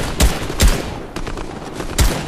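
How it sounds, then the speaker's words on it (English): Gunfire in the Fortnite video game comes as three sharp, loud close-range bursts, a quick pair and then one more after a short gap. "somebody's shooting at us from up here"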